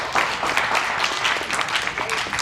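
Audience clapping for a volunteer at a church service, a dense burst of hand claps filling the room for a couple of seconds, close and fairly loud.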